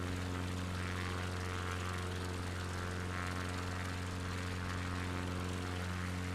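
Propeller plane engine in a flight simulator game, a steady loud droning hum with strong tonal harmonics running unbroken throughout, no talk over it.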